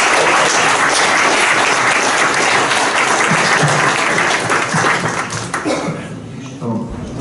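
Loud sustained applause from an audience at a startup competition final, dense clapping that fills the room and tapers off toward the end as voices emerge.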